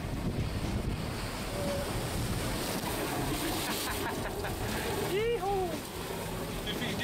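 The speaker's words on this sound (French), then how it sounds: "Il y a 25 nœuds, 30 nœuds de vent." Strong wind of 25 to 30 knots buffets the microphone aboard a racing sailboat on the Vendée Globe, with waves rushing and splashing constantly and a voice briefly speaking over the noise.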